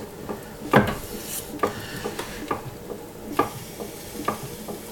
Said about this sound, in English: Using my stick slightly as a rib to clean off the outside of the pot.